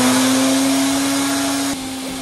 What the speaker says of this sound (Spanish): esta galleta la vamos a vaciar a la licuadora